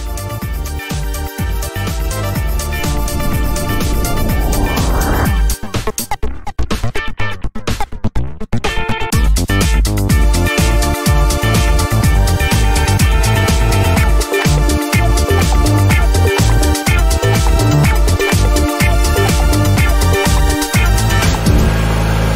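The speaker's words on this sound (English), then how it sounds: "Cranked it a couple of times. Started right up. Wheels all hold air. Engine runs fantastic as you can hear it." A Craftsman lawn tractor with a Briggs & Stratton 17.5HP engine cranks and then runs, a loud, continuous, close-up engine roar that fills the whole stretch, with brief uneven sputters partway through.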